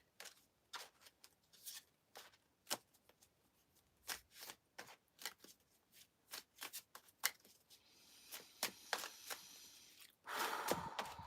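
Tarot cards shuffled by hand in a live reading, a series of close, sharp slapping riffles in irregular rhythm, ending with a denser rustle; no talking.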